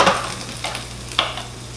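Spicy beberoq steaks sizzle in a flip pan with a steady close hiss. A few brief scraping or stirring bursts mark the moments when the meat is moved, with no voices.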